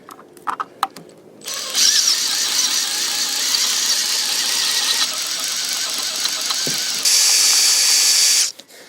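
A few clicks, then a high whining drill bit grinding steadily into stainless steel, cooled with water, for several seconds, rising to a harsher pitch near the end before stopping abruptly.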